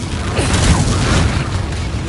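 A Confringo blasting spell goes off in Hogwarts Legacy, a loud, heavy booming rumble with a crackling burst that fills about two seconds close up, with no talk over it.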